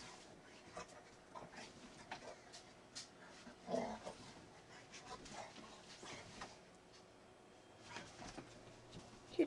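A very large pet dog whimpers and whines in a few faint, short bursts, the clearest near the middle, with quiet room noise and soft background sounds in between.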